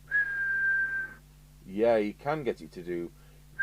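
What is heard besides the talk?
whistling into a Maxon CM10 CB radio for a whistle test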